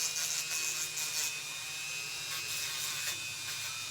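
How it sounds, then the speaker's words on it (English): A small Dremel rotary tool whines steadily at low speed, a thin high-pitched buzz that holds constant throughout with a faint hum beneath. "I have a little Dremel, and I just turn that little bad boy on very low speed"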